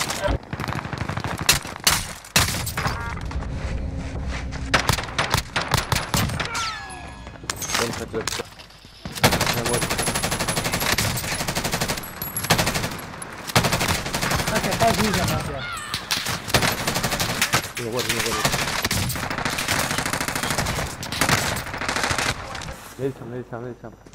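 Call of Duty Warzone gunfire in rapid, dense bursts of automatic weapons and single shots, loud and nearly continuous across the clip, with a player talking over the fighting.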